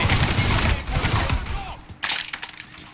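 Blind gunfire in the video game Mafia 3 makes a dense, loud, rattling barrage of shots with impacts. It thins out briefly, then resumes in sharper bursts.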